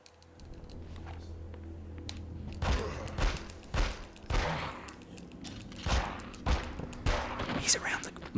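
Gunshots fired at a zombie in The X-Files: Resist or Serve game, a series of sharp separate bangs spaced irregularly over a low ambient hum.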